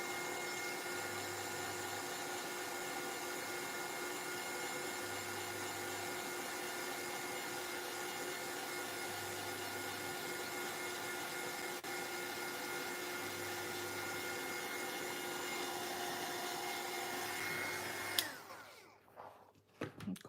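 A heat tool runs steadily on craft paint to dry it, a quiet, even whir with a faint rhythmic pulse that continues for most of the stretch and then cuts off near the end.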